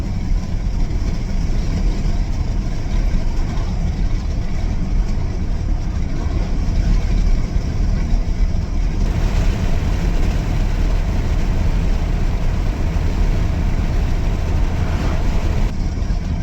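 Close, continuous idle of a Dodge Ram pickup engine: a thick, even low-pitched rumble that stays level from start to finish, alone without any voices.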